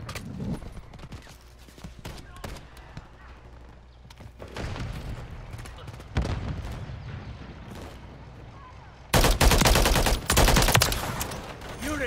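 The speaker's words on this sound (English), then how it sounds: "Taking effective fire!" Automatic weapon bursts in Modern Warfare III multiplayer, rapid loud rattles with pauses between, the heaviest volley near the end, over a continuous game background.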